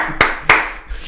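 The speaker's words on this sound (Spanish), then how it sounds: "¡Aplauso, producción!" Two sharp, close hand claps ring out from the production crew in a studio for a Christian preaching talk show, spaced about a third of a second apart.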